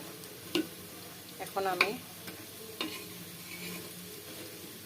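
Masoor dal fritters frying in hot oil, a steady soft sizzle with a few clinks and stirring scrapes, as a voice speaks briefly.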